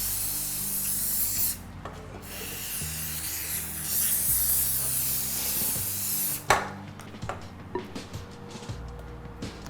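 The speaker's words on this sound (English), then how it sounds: "I need to grease it with the non-stick cooking spray" Non-stick cooking spray hisses onto a loose-bottom cake pan in a few sustained bursts, close and moderately loud, with a sharp knock and some handling clatter afterward.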